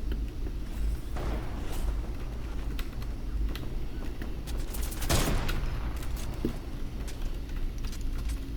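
Gunfire crackles in a battle royale video game, scattered shots and a louder burst of fire partway through over a steady background rumble, with no speech.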